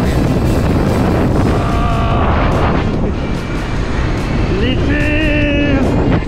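Wind buffets a microphone during a snowboarding run at Tanay ski resort in Siberia in December, a loud, constant low roar with voices calling out over it.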